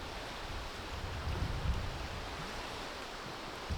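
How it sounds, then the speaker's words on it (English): Strong wind blows outdoors around a cabin building site, a constant soft broadband rush with slightly stronger gusts swelling in the low end, fairly faint and with no one talking. "It's really windy"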